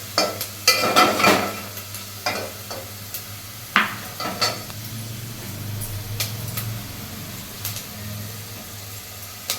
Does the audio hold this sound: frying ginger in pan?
yes